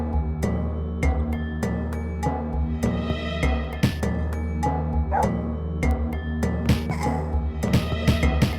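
A dog monster in the dungeon game Once upon a Dungeon barks and yips in quick repeated bursts over steady game music, the yelps landing irregularly throughout.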